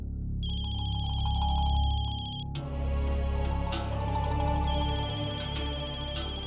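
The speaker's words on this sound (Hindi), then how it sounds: "मम्मा फोन की आवाज तो यही कहीं से आ रही है।" A mobile phone ringtone plays loudly and repeatedly as an electronic melody, rising over low background music, with sharp accented hits in the later part and no speech.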